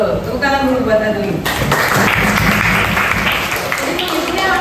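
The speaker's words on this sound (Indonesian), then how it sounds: "Betul, tepuk tangan dulu buat Adli." A classroom of primary school children claps for a classmate, a steady burst of mixed applause and chatter close by, with a voice talking over it at the start.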